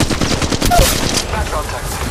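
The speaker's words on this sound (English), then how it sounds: "Shots fired at me." Dense gunfire in the mobile battle royale game Apex Legends Mobile: loud, rapid overlapping shots that fill the whole moment without a break.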